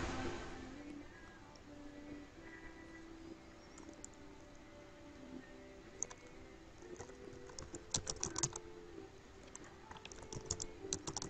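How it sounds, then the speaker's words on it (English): Typing a password on a computer keyboard: quiet, irregular key clicks in short bursts, faint and close, over a soft room hiss, with no talking. "So we type password."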